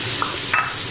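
Cumin seeds, chili powder and turmeric sizzling in hot oil, a brief, close crackling hiss with two quick scrapes of stirring and no talking.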